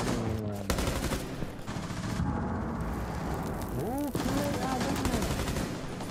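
Rapid gunfire in an online team deathmatch shooter, dense bursts of shots and impacts running through most of the stretch, loud and close, with a brief voice near the start.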